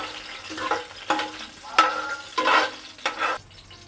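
Green chillies and cloves frying in oil, stirred in a pan with a spoon or spatula: a close, crackling sizzle broken into several short bursts as the ingredients are pushed around, with no voices.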